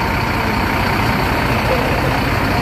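An ALS Medan bus numbered 253 idles in a parking area, a steady, close, low diesel rumble with no break. Someone speaks over the engine.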